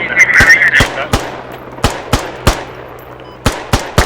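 Gunfire in the tactical shooter Squad rings out in sharp, loud individual shots at irregular intervals, several close together and some spaced apart, with a brief electronic tone early on.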